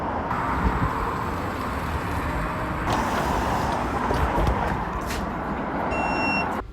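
A V1 bus, a luxury double-decker, idles and passes on a Greater Manchester road, a steady broad rumble of engine and traffic throughout, with faint high beeping near the end.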